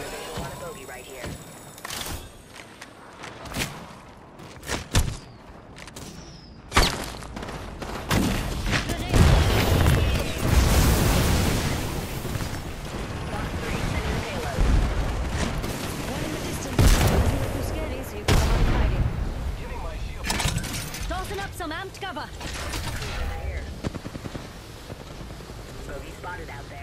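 Gunfire and booming explosions from the video game Apex Legends come in bursts and rolling blasts at fairly loud level, with a voice talking over the action.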